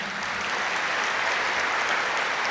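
Steady, dense applause from an audience at BK Santosh Didi's talk, continuous and fairly loud throughout, without voices over it.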